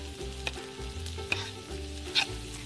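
Onions sizzle steadily in a frying pan while asparagus is pushed in and stirred, with a few close scraping clicks over the constant hiss.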